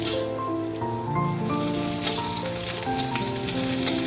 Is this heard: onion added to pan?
yes